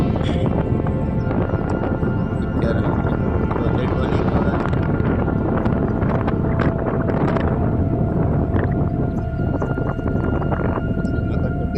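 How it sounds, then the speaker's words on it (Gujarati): Strong outdoor wind buffeting the microphone on a sunny day in rural Gujarat, a loud constant low roar for the whole stretch, with no clear talk over it. "પવને ફૂલ એટલે તમને મારો થોડો ઓછો સંભળાતો હોય છે"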